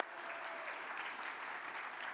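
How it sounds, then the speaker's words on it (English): Steady applause from a crowd at a conference closing lunch, a sustained wash of clapping that holds evenly throughout, somewhat distant. "please give a huge round of applause to the team here at the Peppermill"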